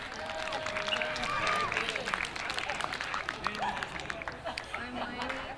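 A crowd at a radio event claps and cheers, a steady dense wash of applause with voices mixed in throughout.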